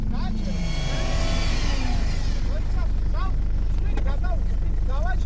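A car engine revs hard while stuck in mud on a rough off-road track, a loud continuous drone with rising pitch, while people talk and call out over it.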